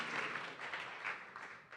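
Audience at a San Francisco tech demo night claps again on request: a loose, fairly faint patter of hands from a modest crowd, rising and falling over a couple of seconds.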